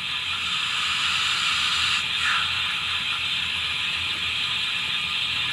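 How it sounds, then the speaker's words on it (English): Brake sound effect from a model GWR Manor steam locomotive: a steady hissing, steam-like wash with a brief squealing sweep around midway, ending in a sudden thump. "F2 is the brake sounds."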